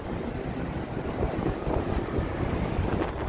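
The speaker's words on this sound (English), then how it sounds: "Yeah, it seems kind of windy." Wind gusting outdoors on a Las Vegas street at night, buffeting the microphone with a low rumbling roar that swells louder midway and stays steady, with no speech.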